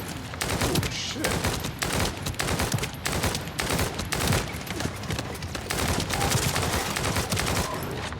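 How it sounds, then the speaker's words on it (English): Rapid automatic gunfire in a video game, a dense, continuous stream of shots with a few brief gaps, loud and close throughout. "this gun's pretty fucking rapid"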